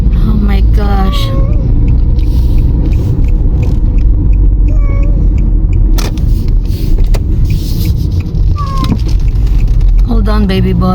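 A sick cat meows repeatedly during a car ride to the hospital, its wavering cries rising over steady, heavy road and engine rumble while people talk nearby.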